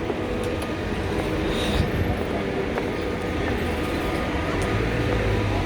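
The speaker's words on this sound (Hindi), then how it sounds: "ये देखिए इनकी ट्राम चल रही है" A tram running along a street in Istanbul, a steady, dense rumble of wheels and traffic that holds throughout at close range, with no talking.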